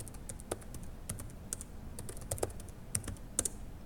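Quick keystrokes on a computer keyboard as a password is entered twice, a steady run of light clicks with a few sharper taps, close and fairly quiet, with no voices.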